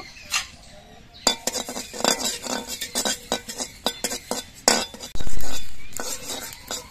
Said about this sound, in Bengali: এরকম কালো জিরেগুলো পটপট করে ফুটছে